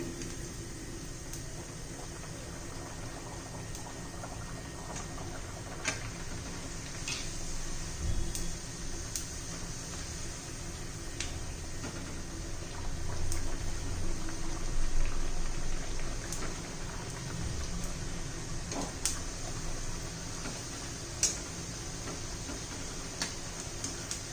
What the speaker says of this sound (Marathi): आता पुऱ्या तळून घेणार आहोत आपण